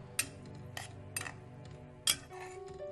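A utensil stirs khoa and paneer together in a pan over low heat, with a few faint, sharp metallic clinks and scrapes spaced irregularly against quiet background.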